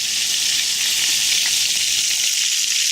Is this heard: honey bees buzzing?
no